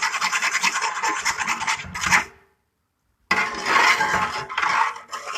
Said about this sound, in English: And so we're gonna give that a really nice stir.